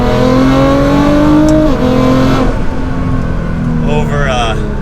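An R35 Nissan GT-R with a dual-clutch transmission, running on about 50% ethanol, revs and accelerates loudly and up close, its engine note climbing through gear changes while a voice talks over it.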